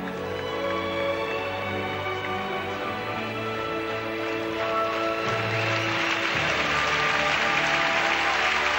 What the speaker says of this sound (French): le public est en train d'applaudir le programme intermédiaire de Tania pour l'encourager